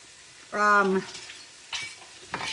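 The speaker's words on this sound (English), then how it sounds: "So we're sweating those onions." Onions sweat in a skillet, a soft close sizzle with occasional stirring scrapes and a spoon clink, briefly covered by a voice near the start.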